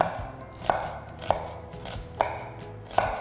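A kitchen knife chops onion on a cutting board, scoring it with slits left joined at the root end; four distinct sharp chops land about a second apart, close and clear over faint background noise.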